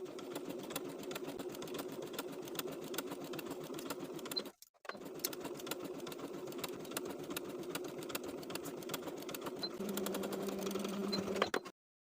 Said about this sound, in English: we're going to sew with a 1-inch seam allowance around the entire neckline, catching that facing in our stitches, using a straight stitch of a 3mm length